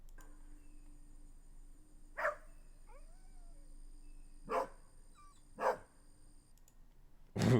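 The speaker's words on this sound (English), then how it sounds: "Crosby's got such a big dog bark." Crosby, a big dog, lets out four deep single barks, spaced a second or two apart in a quiet room, each short and loud against a faint steady background hum.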